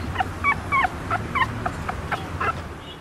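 A stray dog gives a series of short, high whimpers and yips, about eight of them over three seconds, close by, with a low rumble of background noise beneath.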